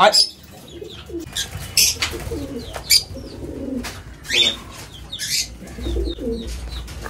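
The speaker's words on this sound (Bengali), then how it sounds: "আমাদের এই পায়রাটা হচ্ছে কালদমা পেয়ার" A Kaldama pigeon pair coos in a colony with other birds, low rounded calls recurring among sharp chirps and rustles, with some voices in the background.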